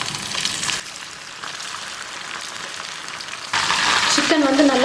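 Marinated chicken deep frying in hot oil in a kadai, a steady broadband sizzle throughout that swells louder near the end as more pieces hit the oil, with no talking.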